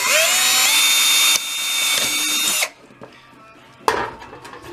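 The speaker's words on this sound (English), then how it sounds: "drill bit to drill the" A power drill whines at high speed, bites through a thin metal canning lid into a tin can, then stops; after a pause, a brief scrape and rattle follow.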